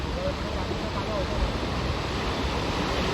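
Sea waves wash over the rocks at Marine Drive in Mumbai, a steady, loud rushing wash with wind noise throughout and no distinct break.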